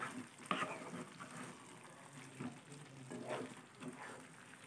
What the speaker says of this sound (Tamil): இப்போ இதை நல்லா கலந்து விட்டுக்கலாங்க